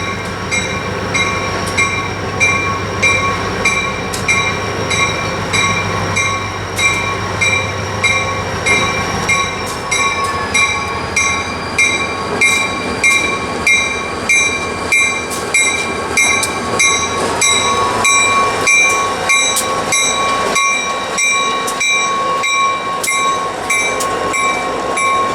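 A New York, Susquehanna and Western freight train rolls along the Utica branch in cold winter air. Steady rhythmic wheel clatter runs throughout under sustained tonal screeching, with no talking.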